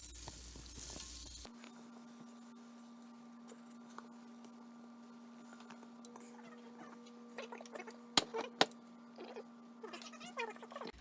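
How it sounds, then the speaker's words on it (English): Butter melting in a cooking pot gives a faint, steady sizzle over a low hum, broken by a few sharp clinks near the end. "now that the butter is melted"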